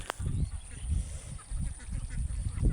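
Many ducks on a village duck farm quack in low, repeated calls, a steady chorus of overlapping honks with a brief sharp sound at the start.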